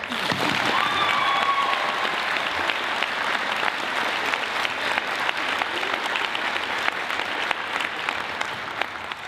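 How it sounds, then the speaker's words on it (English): An audience at a Martin Luther King Jr. tribute event bursts into loud, sustained applause, a thick continuous wall of clapping with faint cheering mixed in. "So I think they deserve another round of applause."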